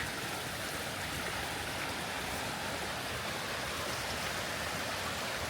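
Loud, steady rushing of Twin Falls waterfall in Idaho fills everything, a constant roaring wash of water with no pauses.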